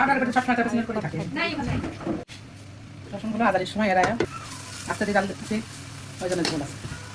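Taro stolon (kochur loti) curry sizzles in a pan as it cooks down nearly dry and is stirred, a steady soft hiss running beneath a person talking throughout, with one sharp click partway through.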